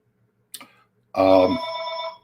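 A telephone rings once with a bright, tonal electronic burst, loud and close, after a brief faint click, in an otherwise quiet room.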